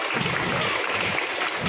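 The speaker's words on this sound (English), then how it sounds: "Everybody encourage by a clap." Audience applause at a school Republic Day celebration, a short burst of dense, loud clapping from a crowd of children and adults.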